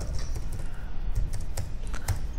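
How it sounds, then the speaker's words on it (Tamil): Typing on a computer keyboard while entering data into billing software for a fruit seller: a brisk, irregular patter of close key clicks with a few heavier presses, with no one talking. "நான் வந்து தமிழில் அப்படியே தங்கிலீஷில் டைப் பண்ணுறேன்"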